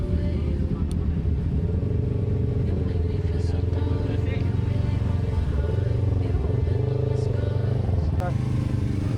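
A Yamaha MT-25 motorcycle accelerates up the steep Sikarim climb on the way to Dieng, its engine a loud, continuous close rumble with some wind buffeting.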